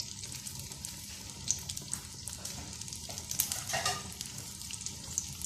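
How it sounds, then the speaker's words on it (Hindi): A Peshawari chapli kabab fries in oil, making a quiet, continuous bubbling sizzle with a few brief clinks and a short swell of crackling partway through, close and with no talk. "ये फ्राई हो रहा है।"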